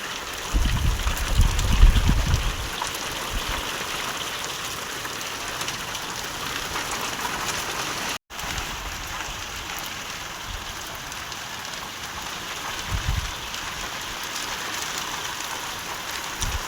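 Heavy rain pouring steadily at a village house, a dense continuous hiss of drops drumming on surfaces, with brief low thumps early on.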